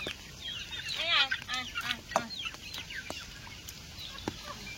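Chickens clucking at a rural Sundarbans homestead after monsoon flooding, with a series of short, throaty calls and squawks close by, rising and falling in bursts over a quiet outdoor background.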